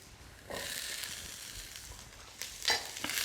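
Peppers tipped into a pan of onions frying in oil, setting off a burst of close, steady sizzling that swells with sharper crackles and flares near the end.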